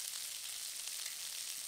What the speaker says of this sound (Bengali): আর এদিকে কাঁকড়াগুলো ভাজা হয়ে এসেছে